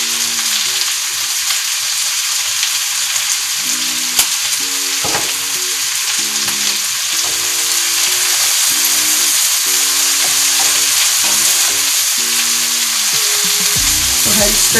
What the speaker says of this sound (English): stir it so we can get some of the apples and bacon out the bottom